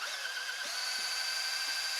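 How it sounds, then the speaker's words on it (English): A cordless drill spinning a small pump to drain fuel from a car's tank, giving a steady high-pitched whine that rises slightly in pitch partway through, sounding close, continuous and alone for two seconds. "using our cordless drill and start draining off whatever was in there"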